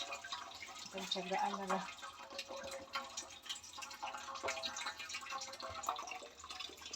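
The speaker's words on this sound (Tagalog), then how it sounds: "Ang hina talaga ng daloy ng water." A weak trickle of water runs from a kitchen tap while cassava puto is being prepared, a thin steady flow sitting under ongoing conversation and nearby kitchen clatter.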